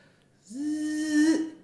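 A voice imitates a dental drill with a steady high whine that holds for about a second before tapering off.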